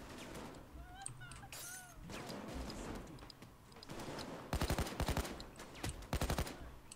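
Rapid automatic gunfire from the Payday 2 video game crackles in loud bursts, with speech and other game sounds in the mix.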